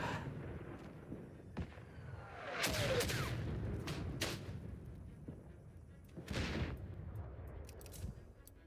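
Gunfire and a mortar strike from the World War I game Isonzo, with several sharp distant shots, a louder booming burst around the middle and another blast later, all over a rumbling battlefield background.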